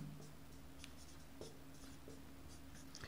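Chalk or marker writing on a board, faint, scattered short scratchy strokes over a low steady hum, quiet and close with no talking.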